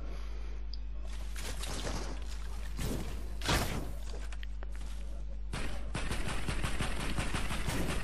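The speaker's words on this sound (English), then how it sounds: "Why would she shoot at us and then run away?" Loud gunfire from the video game Fortnite comes as rapid bursts and volleys, repeated over several seconds with brief gaps between them.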